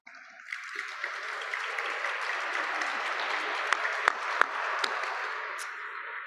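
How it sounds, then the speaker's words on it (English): A round of applause fills the room at an awards dinner, dense and even clapping from a seated crowd with a few sharper claps standing out near the end. "we could give him a nice round of applause"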